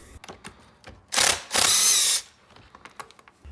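A power driver whirs in two short bursts, close and loud, while the shaft is removed from the power head of a Stihl FS/KM string trimmer. Quieter handling clicks come before and after.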